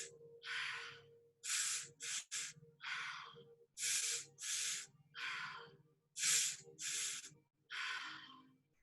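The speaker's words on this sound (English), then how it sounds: "Keep breathing in and letting it go." Slow, deep breaths during a guided breathing session, each inhale and exhale a long rushing air sound, repeated about ten times in a steady rhythm, close and clear, with a faint low hum beneath.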